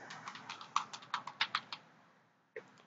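About a dozen quick, light keystrokes on a computer keyboard tap out close and quiet, then silence, then a single final key press.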